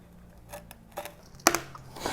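Scissors cut pro scooter grip tape, making a few soft snips followed by one sharp, crisp cut, close and quiet with no talking.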